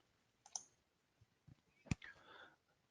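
Computer mouse clicking while pricing is opened on an AWS EC2 page: a few sharp, isolated clicks, the loudest near the end, in an otherwise quiet room with faint low taps between them.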